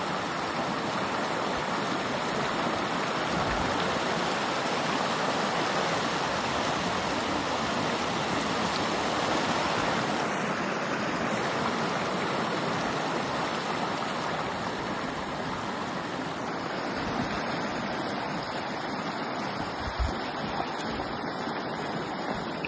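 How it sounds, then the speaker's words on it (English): Clean, chilly Ganges water rushes along a stream on the Kailash Kora pilgrimage circuit, a close, continuous splashing roar that holds steady with no voices. "Supposed to be Ganges water flowing in between this Parikrama."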